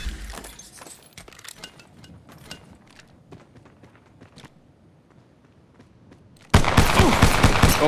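Gunfire in Apex Legends Mobile: scattered faint clicks and light impacts give way to a sudden loud, sustained burst of shooting that fills the final second or so, close and harsh.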